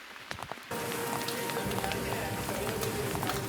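Running footsteps are layered into a dense, rain-soaked Blade Runner-style city ambience, with quick steady steps blending into a constant close hiss of rain that starts suddenly and stays loud.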